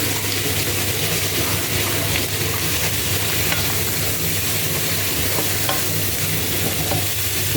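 Shrimp sautéing in a pan alongside sausage, a dense, steady close sizzle and crackle with continuous stirring scrapes, no voices.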